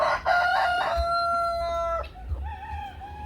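A small Sebright bantam rooster crows nearby, a high, thin cock-a-doodle-doo with strained harmonic notes, followed by a shorter wavering call.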